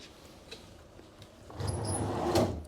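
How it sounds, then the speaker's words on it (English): Hotel room sliding door on a bathroom built into a cupboard space, rolling shut with a soft rumbling slide and a light knock at the end, close by in a quiet room. "it's got a sliding door to close it, look"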